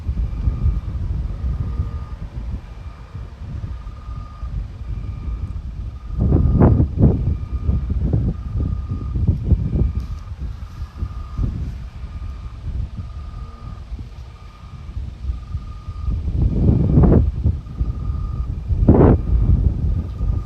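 Strong wind blowing outdoors, a constant low rumble buffeting the microphone with louder gusts swelling and fading, and no talking.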